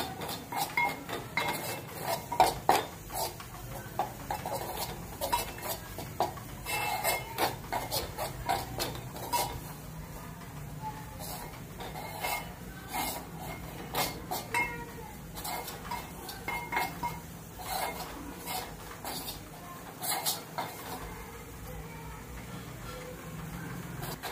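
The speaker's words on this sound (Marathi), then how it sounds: "डाळीचं पीठ भाजताना थोडंसं तेल टाकून भाजूया." Gram flour roasting with a little oil in a pan for palak paneer, with steady scraping and clinking of a spatula against the pan and soft background sizzle throughout, no talk.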